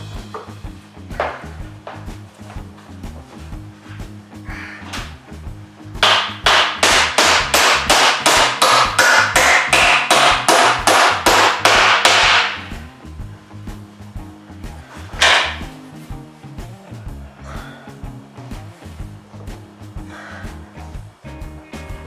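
Hammer nailing a thin ripped strip of wood molding onto a shed's interior wall: a dense run of rapid, loud blows for about six seconds, a single sharp strike afterward, and scattered lighter taps throughout.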